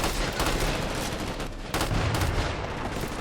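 Sustained automatic gunfire rattles in Crackdown 2, a dense continuous volley of shots running the whole time with a brief dip in the middle, loud and close with no talk.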